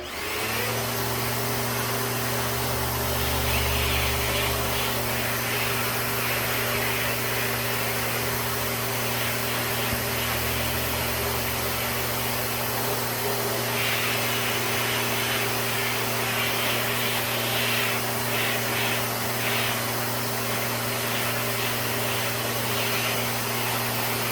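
A Bissell CleanView ActiveWand upright vacuum cleaner runs steadily and loudly throughout, its motor droning with a constant whine and no talking.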